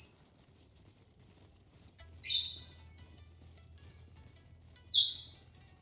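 A small bird in the Bannerlord Old Realms mod gives two short, harsh squawks a few seconds apart, loud and close over a quiet low background rumble.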